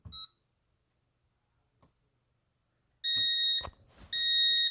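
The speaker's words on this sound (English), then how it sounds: "So to activate a fire alarm, push and hold." A Concord 4 security panel sounds its fire alarm: loud electronic beeps in two bursts, a short one at the start and a sustained tone later, broken by a brief gap and some handling clicks.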